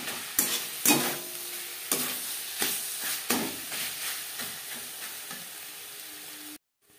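Chicken pieces frying with a spoonful of roasted spices (cumin, coriander, dried chilli, black pepper, bay leaf) in a pan, a steady sizzle broken by repeated scraping stirs, close and loud, then cut off abruptly near the end.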